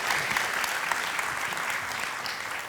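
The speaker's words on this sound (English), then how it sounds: "Can we give it a round of applause just for them and their awesome testimony?" A church congregation claps for a testimony shared by young people, a dense, close burst of applause that stays loud and steady throughout.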